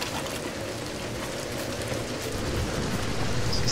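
Steady rain in the Tomb Raider Definitive Edition game during a storm, a dense, even hiss and patter that holds throughout at a constant level with no voices over it.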